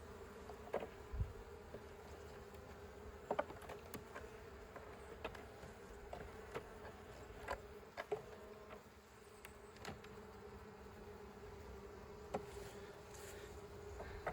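Honey bees buzz at a small hive in a beekeeping shed in February, a faint, steady hum broken by brief closer buzzes of single insects passing by.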